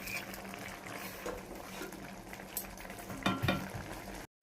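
Silver carp curry in mustard oil bubbles and sizzles softly as it gets stirred, with a couple of louder scraping stirs near the end before a sudden cut to silence.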